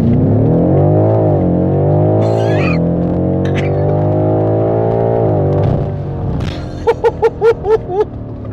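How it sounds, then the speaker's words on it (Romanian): A BMW M5 F90 launching at full throttle with stability control off: a loud, close, sustained engine roar holds strong and steady for several seconds, then eases off into a few short, sharp bursts near the end. "să fie DSC off, apoi piciorul în accelerație, mașina în gaz."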